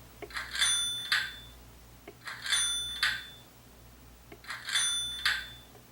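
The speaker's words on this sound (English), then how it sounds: "F4 is the fare paid bell, so you're collecting passengers." Three ringing bell dings from an HO scale model New Orleans streetcar's fare paid bell, each a short double-struck chime, spaced evenly about two seconds apart over a low steady hum.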